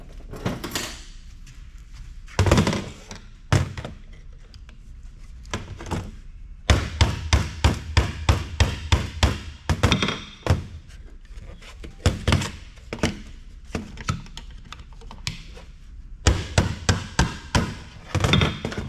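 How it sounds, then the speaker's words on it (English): Repeated sharp metallic strikes of a hammer and chisel on an aluminum heatsink in medical electronic scrap, some in quick bursts and others spaced apart, ringing close up with brief pauses between rounds of hammering. "let's get the hammer and the chisel"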